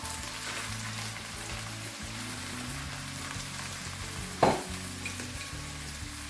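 Shredded boiled chicken fries in a pan with a steady, close hiss of sizzling oil, low rumbling stirring underneath and one sharp clink midway, with no talking.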